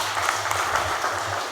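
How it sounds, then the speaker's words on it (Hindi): An audience at a motivational stress-management session applauds, a steady wash of many hands clapping close by throughout, with no speech over it. "सो अश्विन जी के लिए एक ताली बजाइए सर"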